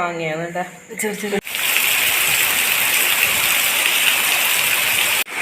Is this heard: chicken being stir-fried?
no